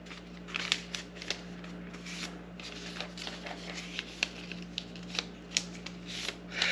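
A paper sheet is folded into thirds by hand, a series of quiet, close crinkles and soft creasing rustles in an irregular rhythm over a faint steady hum, with no talk.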